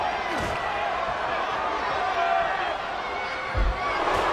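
Crowd cheering and roaring in the WWE '13 wrestling video game during a steel cage match, a steady dense crowd noise throughout with a couple of impacts, under a commentator talking.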